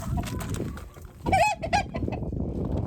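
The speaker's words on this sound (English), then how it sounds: "I need to go chase the chicken out of my tulips" A chicken clucks and squawks a few times while being chased out of a bed of tulips beside a greenhouse, the calls close and over rustling garden noise.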